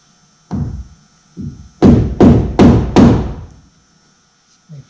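A metal scribe is tapped against fiberglass on a VW Westfalia bus poptop to make a divot: a few sharp knocks, then four quick close raps in a row, followed by a faint knock.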